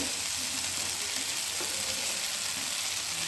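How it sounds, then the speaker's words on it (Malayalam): Onions and spices for a dhaba-style paneer gravy frying in a pan, giving a steady soft sizzle at low level that carries on without a break. Nobody speaks. "ഇതുപോലെ നല്ലോണം വഴറ്റിയെടുക്കുന്നുണ്ട് ഞാൻ"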